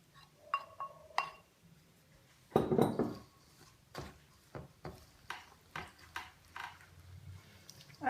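Bread dough ingredients are mixed in a bowl, giving scattered clinks, taps and scraping knocks at an irregular rhythm, close by and fairly quiet, with one louder rubbing scrape partway through.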